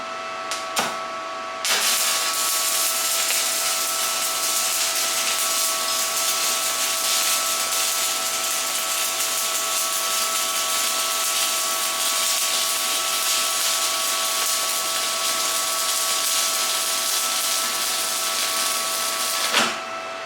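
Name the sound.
TIG welding with the Arccaptain TIG200 welder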